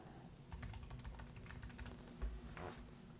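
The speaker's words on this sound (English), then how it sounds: "as soon as you start typing in this top right hand corner" Faint, rapid keystrokes tapped on a computer keyboard while entering a location into a search field, forming a quiet, steady patter of clicks.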